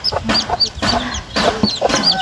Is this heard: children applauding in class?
no